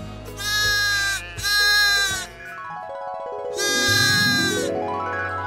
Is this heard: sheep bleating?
yes